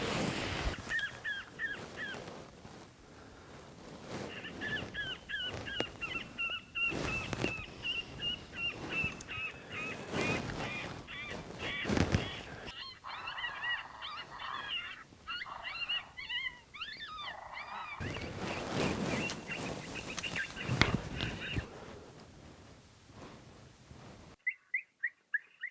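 An electronic predator call for coyote hunting, set to the Lucky Pecker sound, plays outdoors in Colorado. It gives out shrill, squealing and honking bird-like cries in long runs, with short breaks and a few sharp clicks near the end.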